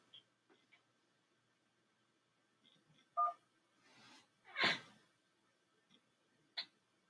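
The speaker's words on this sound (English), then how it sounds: "If you know your party's extension, you may dial it at any time." Several separate telephone keypad tones sound on a quiet line, each a short clear beep, with one loud tone near the middle and scattered faint ticks between them. No one speaks.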